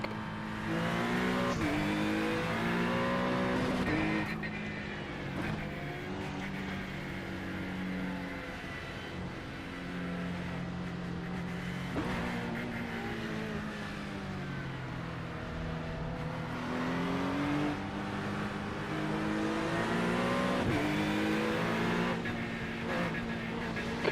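Loud, sustained racing engines in the iRacing simulator rise and fall in pitch as gears shift, with cars passing close by, brief tire squeals, and a voice speaking faintly beneath the engine noise.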